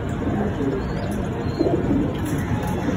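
Pigeons coo steadily and loudly up close at a pigeon sale, with a dense continuous murmur of low calls.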